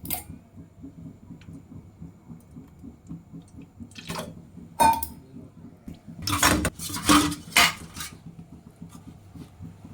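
Water is poured into a cactus fruit jelly mixture with cornflour in a kitchen, a short splashing pour surrounded by scattered clinks of utensils and dishes.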